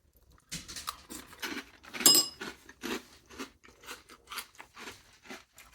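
Fruity Pebbles cereal crunched in milk being eaten, with a run of close, moist crunching and chewing bites repeating steadily, loud at first and then settling into softer rhythmic chews.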